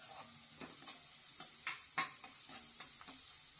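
Crushed garlic fries in hot oil, with a faint steady sizzle broken by several sharp stirring scrapes of a spoon against the pan at irregular intervals.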